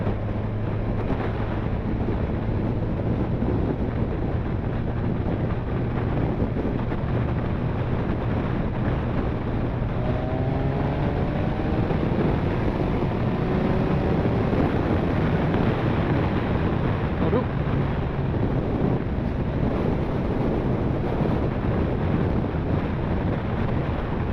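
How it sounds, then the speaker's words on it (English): A Kawasaki Z1000SX motorcycle rides along a 60 road across Saddleworth Moor, its engine droning beneath heavy, constant wind rush, with a rising engine tone surfacing briefly midway. "I do love the sound of this engine when it's when you put full throttle on"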